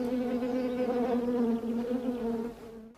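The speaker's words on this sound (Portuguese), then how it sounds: "as abelhas marcadas com amarelo encontram o caminho até o pires com água e açúcar" Honeybees buzz around a saucer of sugar water set far from their hive, a steady, close, droning hum that holds for most of the stretch before easing off at the end.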